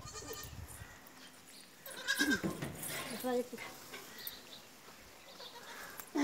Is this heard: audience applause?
no